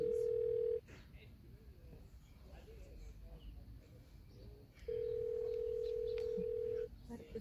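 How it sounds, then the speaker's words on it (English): A phone rings with a steady electronic tone, heard in two long bursts separated by a pause, under background chatter and movement. "Your phone's ringing."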